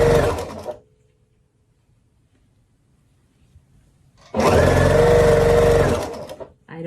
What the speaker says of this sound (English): we'll just sew a bunch of these together, see how far we get.